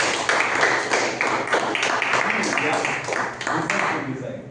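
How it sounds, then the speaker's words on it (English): Audience applause at a Toastmasters club meeting for its Diwali special, a steady round of clapping from a room of guests as a Toastmaster is welcomed on stage, with no break for several seconds. "Now let us welcome Toastmaster Srividhya on stage for the big round of applause."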